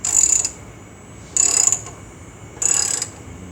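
Ratchet jack cranked to lift a frame: three separate bursts of dense, high clicking, each about half a second long, with short quiet gaps between them. The bursts are fairly close and clear, and nobody talks.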